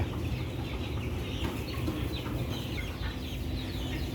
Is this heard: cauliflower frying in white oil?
no